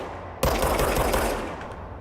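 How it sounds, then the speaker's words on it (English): Rapid burst of gunfire from the service weapon in the video game Control, starting abruptly and continuing as a loud, dense stream of shots before tapering slightly toward the end, with no talking. "Fire service weapon."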